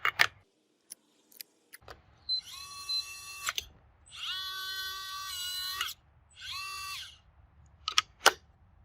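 Power screwdriver driving screws into a door lock, with several whirring bursts of a few seconds each between clicks and small handling noises, close and clear with no talking.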